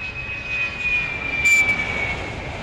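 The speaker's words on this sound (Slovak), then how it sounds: "Toto je ten Fokker, podľa toho, že má tie motory vzadu, poznáte, že je to menší aeroplán." Fokker 100 jet airliner with rear-mounted engines flying low on approach just before landing, a steady broad engine roar with a faint whine, fairly distant and constant, no talk.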